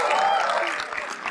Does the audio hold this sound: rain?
no